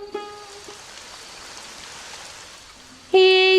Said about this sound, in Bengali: যা বৃষ্টি শুরু হয়ে গেল